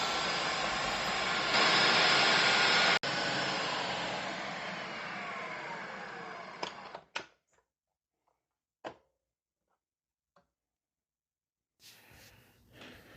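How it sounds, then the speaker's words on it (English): A food processor grinds a batch of Oreo cookies, a loud steady whirring roar for about seven seconds that cuts off abruptly, followed by a few faint clicks and quiet. "28 Oreos in my food processor"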